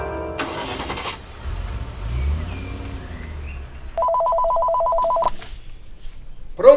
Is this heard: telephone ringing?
yes